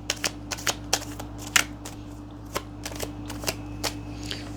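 Tarot cards being shuffled by hand, a quiet series of crisp riffling flicks and soft slaps in irregular rhythm, close up over a steady low hum, with no talking.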